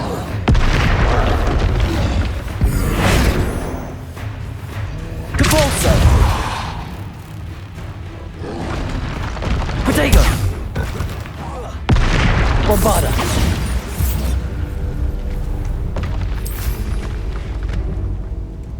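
Bombarda blasting spells explode in Hogwarts Legacy combat, with several loud booming bursts recurring every few seconds amid continuous battle noise and spoken spell incantations.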